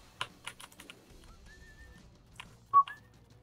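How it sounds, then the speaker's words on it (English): A person's short, wavering whistle, a few thin tones that drift and break, heard between sharp keyboard-like taps during a Binding of Isaac game session. "Wow, that was the worst whistle I've ever done."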